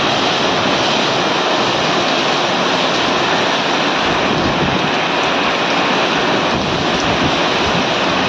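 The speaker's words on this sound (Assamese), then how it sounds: "এই চাওক ধুমুহা বতাহ আহিছে" Strong storm wind drives heavy rain in a dense, unbroken roar that stays loud and close throughout, with gusts buffeting the microphone.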